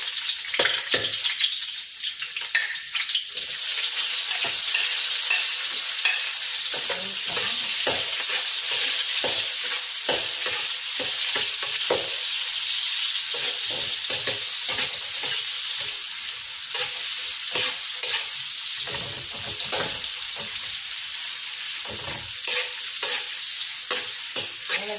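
Unpeeled garlic sautéing in a pan with a steady bright sizzle and frequent stirring scrapes, close and continuous with no talk.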